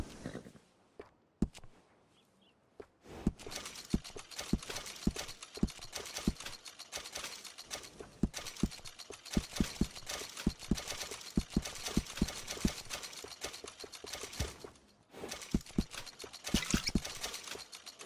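Horse hooves clip-clop at a steady walking rhythm in the Red Dead Redemption 2 Wild West game, with repeated sharp, fairly close knocks continuing for several seconds after a short quiet opening.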